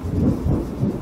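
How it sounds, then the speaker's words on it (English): Thunder from an approaching afternoon thunderstorm rolls as a low, rumbling murmur, steady and fairly loud, with no voices. "We've got a thunderstorm, or afternoon thunderstorms coming in"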